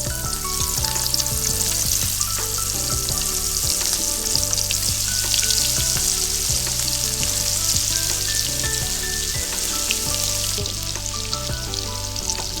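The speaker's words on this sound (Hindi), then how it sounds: "तो दोस्तों हमारा ऑयल गर्म हो चुका है। अब हम फ्राई करेंगे।" Fish pieces deep frying in hot oil for a crispy restaurant-style fish fry give a loud, steady, unbroken sizzle that fills the whole stretch, with music playing beneath it.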